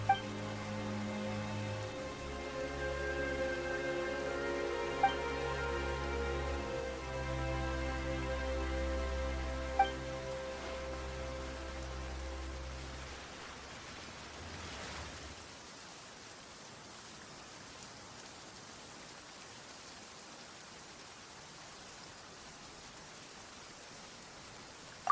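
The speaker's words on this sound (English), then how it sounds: "Why is it raining all of a sudden?" Rain falls in the video game Genshin Impact as a steady, soft hiss. Sustained music tones play over it for the first half, then fade, leaving the even rain noise alone.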